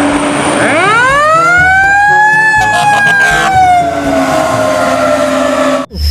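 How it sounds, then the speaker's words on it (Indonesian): A loud electronic toy fire truck siren winds up in a rising wail, then holds a steady high tone before cutting off abruptly. "Wah, ini mobil pemadam kebakaran."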